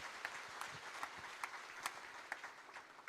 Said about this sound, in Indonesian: Yang setuju berikan tepuk tangan yang meriah buat Tuhan